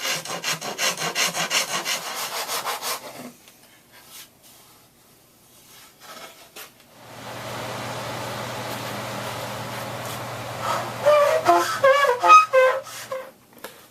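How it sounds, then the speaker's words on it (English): A rasp files excess wood off an acoustic kirar body in rhythmic rubbing strokes for about three seconds, then a pause, then quieter scraping with faint squeaky tones near the end. "I'm just using my rasp to remove the excess"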